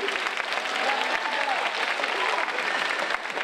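Audience applause at a concert after a youth modern-choreography ensemble performs, a dense, steady wash of clapping that fills the whole stretch at even loudness, with faint voices underneath.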